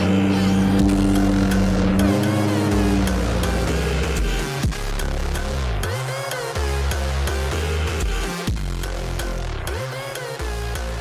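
A modified Nissan GT-R drives off, the loud, close engine note rising and falling as it revs through shifts, with brief drops between pulls.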